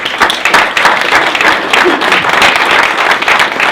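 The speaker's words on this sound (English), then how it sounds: "all those clubs deserve a massive round of applause as well" An audience at a press conference for a rugby league football club applauds. Steady, close clapping from many people runs throughout the clip at a loud, even level.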